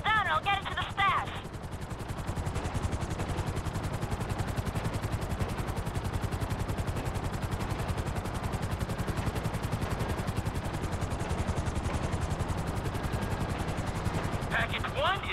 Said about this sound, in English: Two choppers.